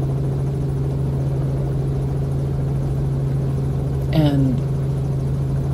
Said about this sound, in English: we had the opportunity to get there by helicopter